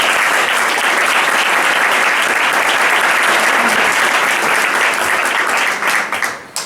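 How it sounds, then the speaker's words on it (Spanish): Loud, dense applause from an audience at a speech night fills the room without pause, then thins out and breaks off at the very end. "Le damos un fuerte aplauso."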